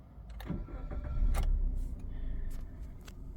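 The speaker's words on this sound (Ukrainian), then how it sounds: "Зробимо запуск двигуна." A 2018 Suzuki Vitara AllGrip engine cranks and starts up nearby, rising into a steady idle with a few clicks and knocks around it.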